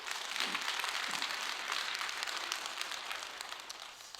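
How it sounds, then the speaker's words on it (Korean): A church congregation claps for a youth group during an early-morning service. Steady, soft applause fills the room and slowly fades toward the end. "애쓰고 수고한 중부동부 친구들 여러분 박수 한번 해줄래요?"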